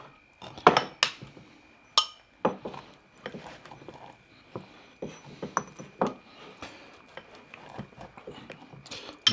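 A spoon eating from a bowl in a home kitchen, sharp irregular clinks and scrapes of metal on crockery, close and fairly loud with quiet pauses between strokes, no talking.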